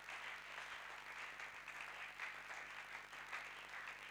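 A church congregation applauds during a prayer service, sustained and even clapping from a crowd that sounds distant and faint.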